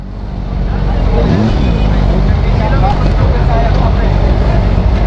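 A 500SR Voom motorcycle engine runs loud and close during a test ride, a constant heavy drone that holds steady from start to finish.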